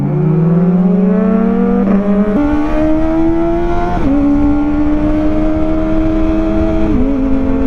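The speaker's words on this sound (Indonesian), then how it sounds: "Ini knalpot yang sekarang ini emang adem banget cuy." A Kawasaki ZX25R motorcycle on its quiet stock exhaust runs steadily close by, a smooth continuous engine drone that rises slightly in pitch in a few small steps, with no talk.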